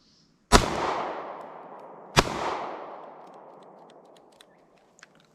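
A semi-automatic pistol fires twice, about a second and a half apart. Each shot is a loud, sharp bang with a long reverberating tail, followed by faint small clicks as the slide locks back.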